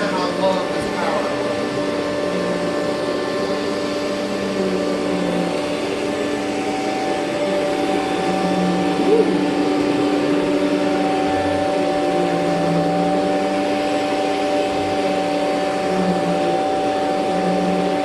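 Vacuum cleaner running steadily at close range, a loud sustained motor whine with a constant tonal hum that holds for the whole stretch, with people talking faintly over it.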